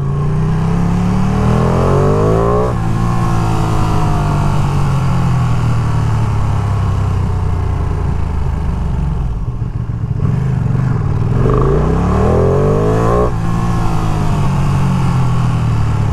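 A 2023 Ducati Panigale V2 sport motorcycle revs and accelerates loudly and continuously on city streets around New York, its engine pitch climbing and falling through repeated gear changes with no pauses.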